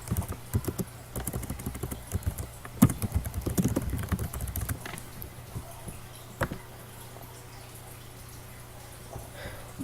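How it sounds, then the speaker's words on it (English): Rapid clicking keystrokes on a computer keyboard while entering a debate topic title, a close burst of uneven taps that thins into a few scattered clicks over a soft hum. "type in the title of your debate topic for your project game"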